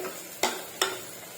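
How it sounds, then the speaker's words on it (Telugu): Crushed garlic with cumin and fenugreek frying in a little oil, a continuous soft sizzle with two sharp stirring scrapes. "ఇది కొద్దిగా నూనెలో ఫ్రై అవ్వనివ్వాలి"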